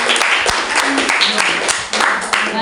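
A school student council debate audience breaks into sustained clapping, dense and fairly loud throughout, with a few sharp individual claps standing out.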